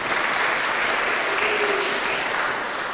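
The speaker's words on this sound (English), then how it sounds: "you have to applaud when I say her name" Steady applause from a crowd, a dense wash of clapping that holds at an even level for the whole stretch.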